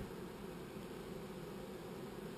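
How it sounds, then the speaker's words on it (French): Honeybees foraging at a new hive after a swarm, a faint steady buzzing hum of many bees continuing without break. "les abeilles, on voit que les butineuses arrivent progressivement avec du pollen ou du nectar"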